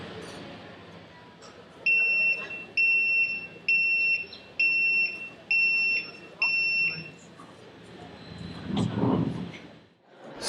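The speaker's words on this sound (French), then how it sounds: "Ce que vous avez entendu, c'est un téléphérique qui embarque ses passagers" A Toulouse cable car's door chime sounds as passengers board, six evenly spaced two-tone beeps, then a rumbling swell as the doors close, with faint background ambience.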